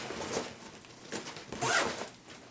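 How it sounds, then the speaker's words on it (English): A zipper closes on a 5.11 Triab 18 backpack in several quick, soft zipping strokes, with one louder pull near the end and no talking. "zip this up"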